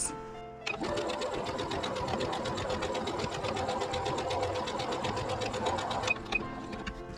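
Sewing machine stitching patchwork fabric in a log cabin pattern, a fast steady run of needle strokes lasting several seconds after a brief pause, close and alone with no talk.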